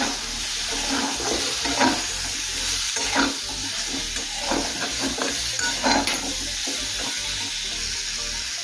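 Vegetables with a quartered medium tomato and turmeric powder are stirred in a pan for a Bengali-style vegetarian curry. A steady sizzle runs underneath as the spoon scrapes and knocks against the pan in repeated strokes, close and clear.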